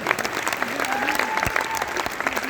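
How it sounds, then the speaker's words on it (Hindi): An audience at a Holi poetry recital (kavi sammelan) bursts into steady, dense applause that fills the whole stretch, loud and continuous with a faint crowd murmur underneath. "एक बार तालियां बजा दीजिए।"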